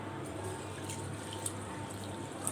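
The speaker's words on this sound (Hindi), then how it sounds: "चावलों को अच्छी तरह से धोना चाहिए" Rice is rinsed in a bowl of water, faint soft splashing and sloshing with a couple of light drips, quiet and close against low background hum.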